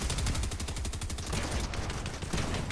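Rapid gunfire in the video game Fortnite, dense repeated shots in quick bursts throughout, loud and close.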